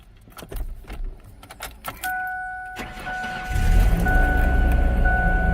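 Keys jangle in the ignition of a car, the starter cranks and the engine catches, settling into a loud, uneven idle that stumbles and skips with a misfire, heard close and without talk.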